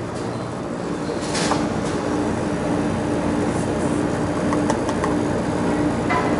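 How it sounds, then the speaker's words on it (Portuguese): A 12000 BTU air conditioner's outdoor unit, a 220V model run on 127V through an autotransformer, drones steadily with its motor humming at an even, moderate level and no breaks. "Tá trabalhando o motor já."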